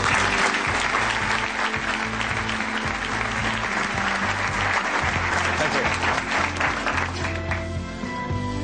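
An audience applauds continuously and loudly to welcome Sir Alex Ferguson at a lecture event, dense clapping filling the room, with a low musical hum running beneath.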